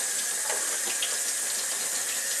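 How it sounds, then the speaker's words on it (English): Hot water from a tap runs steadily over e-cigarette parts being rinsed out, a continuous close splashing hiss with no voices. "hot water and run it over that. You go ahead and rinse that out"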